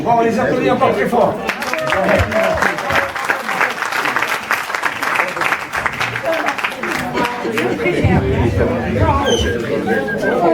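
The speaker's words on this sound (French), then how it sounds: "Bon, on les applaudit encore très fort." Loud audience applause from a crowd, rhythmic clapping mixed with chatter and excited voices, swelling and thinning across the stretch as people talk over and around it.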